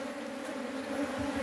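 Honeybees buzzing at an open beehive as a propolis frame is lifted, a dense, continuous drone of many insects close by, steady and fairly loud with no speech.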